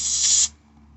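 A short, loud hiss of aerosol carb cleaner spray on an SSR 110 pit bike bursts close by for about half a second, then cuts off into quiet.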